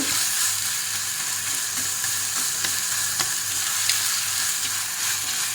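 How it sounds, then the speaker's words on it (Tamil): Masala with mint sautés in a pan for goat trotter curry, giving a loud, continuous close sizzle with faint occasional stirring clicks and no voices. "எல்லாம் போட்டு நல்லா வதங்கணும்"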